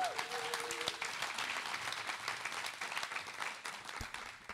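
Steady audience applause for vice mayor Andreas Wolter at a queer human-rights sister-cities event, a dense wash of clapping with a few brief voices riding over it.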